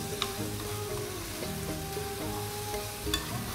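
Fenugreek seeds and papad frying in a pan, a steady close sizzle with a few light stirring clicks and scrapes, no talk.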